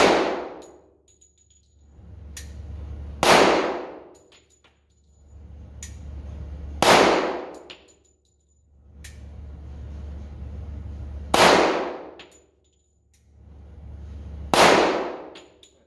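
An FK BRNO pistol fires five rounds at an outdoor range. Each loud, sharp report is followed by a ringing decay, and the shots come a few seconds apart with a low background rumble between them.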